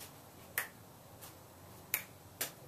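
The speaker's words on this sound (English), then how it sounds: "you snap your fingers" Four sharp, close finger snaps land at irregular intervals in a quiet room, each a crisp isolated crack, as in timing three-ball juggling throws.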